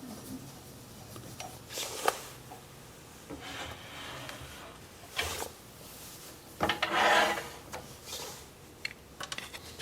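A gouge cuts a laurel wood bowl spinning on a lathe, giving intermittent rasping, scraping bursts of varying length against a quiet workshop background.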